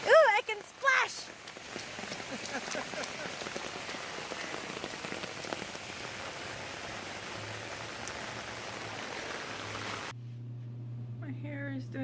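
Footsteps splash through rain puddles outdoors while rain patters steadily on the ground, a near, continuous wet rush that stops abruptly near the end; someone speaks briefly at the start and end.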